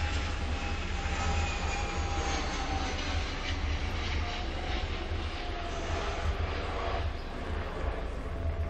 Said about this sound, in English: Oh, there's the airplane.